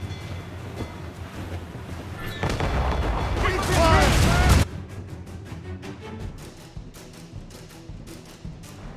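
Ship cannon fire in Assassin's Creed Rogue during a naval battle: a loud broadband roar of booms about two seconds long, followed by scattered lighter impacts and game ambience.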